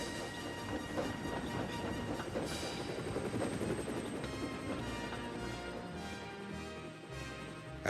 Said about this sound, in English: There, ready for action, was Harold the helicopter.